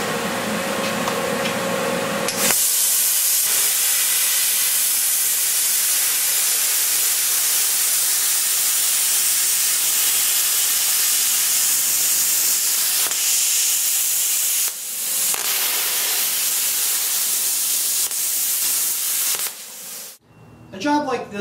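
A Longevity ForceCut 80i 80-amp plasma cutter blows through a quarter to 3/8 inch weld with a loud, steady, harsh hiss that runs continuously, briefly dipping once midway, then cuts off near the end.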